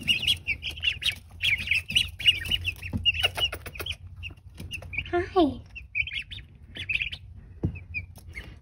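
Magpie ducklings and young turkeys peep in a homestead setting, a dense stream of high, shrill repeated chirps close by over low background noise, with a brief human voice speaking once.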